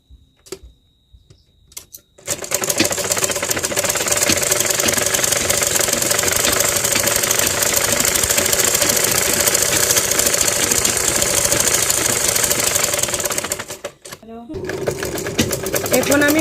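A sewing machine stitches lehenga blouse sleeve fabric in a loud, steady, fast mechanical run that starts after a brief quiet moment and continues for several seconds, pausing briefly near the end before resuming.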